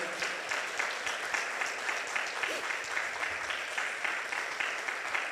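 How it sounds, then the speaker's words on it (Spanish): A church congregation claps in a brisk, rhythmic pattern, the steady beat continuing evenly throughout with a brief voice rising over it. "Dale un aplauso al Señor."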